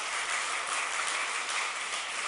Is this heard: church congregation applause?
yes